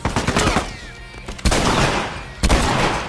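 Shotgun executions in the video game The Last of Us: three heavy, booming blasts about a second apart, each with a sharp crack and a decaying rumble, loud and close.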